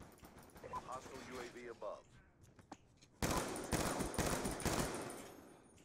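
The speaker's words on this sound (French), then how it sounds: "Voilà, prends ta petite rafale." A rapid burst of automatic gunfire rattles out in the Black Ops 2 shooter, dense cracking shots lasting a couple of seconds after a player talks over quieter game sounds.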